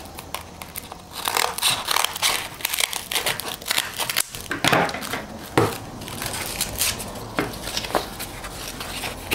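Scissors snip through double-sided hook-and-loop sanding material in a workshop, giving crisp crinkling cuts in an uneven, close-up rhythm with no talking.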